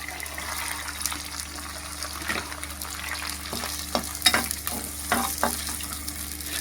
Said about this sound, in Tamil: நல்லா வெள்ளைப்பூண்டு, சாம்பார் வெங்காயம், பச்சை மிளகா, கருவேப்பிலை, சீரகம், வெந்தயம், கடுகு எல்லாமே நல்லெண்ணெயில் போட்டு